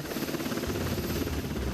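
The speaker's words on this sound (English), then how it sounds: "like my flight in an MH-60 Sierra helicopter" An MH-60 Sierra Navy helicopter in flight makes a loud, continuous rotor and turbine roar with rapid blade chop that fills the whole stretch, with no voices over it.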